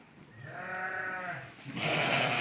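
A lamb or sheep lets out a long, wavering bleat close by, followed by a louder, harsher bleat from another animal in the flock, with a faint farm background behind them.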